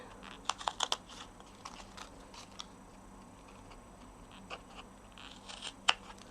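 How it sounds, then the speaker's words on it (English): Quiet, crisp snips and ticks of large scissors cutting paper, scattered over a low background hum, clustered at the start and again near the end. "now I'm going to take my large scissors and I'm just going to snip away"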